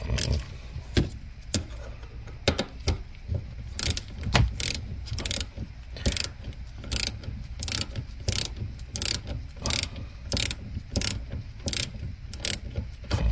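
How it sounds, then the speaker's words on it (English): Ratchet wrench turning a 10mm socket to adjust the handbrake on a 2015 Mitsubishi Outlander, a close, rapid series of sharp mechanical clicks in bursts, repeating steadily for many seconds without talk. "So I'm going to adjust this 10mm"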